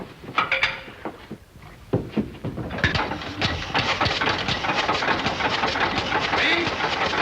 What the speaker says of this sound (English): Keep that engine running.